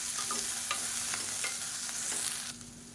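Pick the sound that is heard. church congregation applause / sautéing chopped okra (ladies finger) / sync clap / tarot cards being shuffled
sautéing chopped okra (ladies finger)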